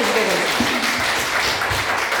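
An audience at a disaster-safety talk concert in Busan claps loudly and steadily throughout, a dense wash of applause with a little faint voice beneath it.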